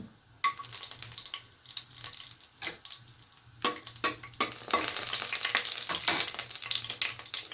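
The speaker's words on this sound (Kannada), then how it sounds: "ತುಪ್ಪ ಹಾಕ್ಕೊಂಡಿದ್ದೀನಿ ನಾನು. ತುಪ್ಪ ಹಾಕ್ಕೊಂಡ್ರೆ ಚೆನ್ನಾಗಿರುತ್ತೆ ಪೊಂಗಲ್ಗೆ. ಮತ್ತು ಸಾಸಿವೆ ಹಾಕ್ತಾಯಿದ್ದೀನಿ, ಜೀರಿಗೆ ಹಾಕ್ತಾಯಿದ್ದೀನಿ ನೋಡಿ" Mustard seeds, cumin and cashews fry in hot ghee for avalakki pongal, with a sizzle that builds from sparse crackles to a dense spattering hiss and intermittent clinks and scrapes.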